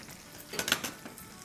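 A spoon stirs chicken korma with yogurt and cashews in a pan, giving a brief, faint scrape and soft sizzle in a couple of quick strokes.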